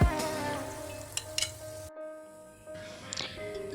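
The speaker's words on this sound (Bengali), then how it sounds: "মিডিয়াম আঁচে ভেজে নিব" Tuna fish kebabs fry in a pan over medium heat, giving a steady close sizzle with a few light scraping clicks. The sizzle briefly drops near the middle and then resumes.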